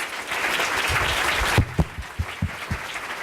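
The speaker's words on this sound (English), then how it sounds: "Give a round of applause, please." An audience applauds at an event, a dense wash of clapping that breaks into a few scattered, separate claps as it dies away.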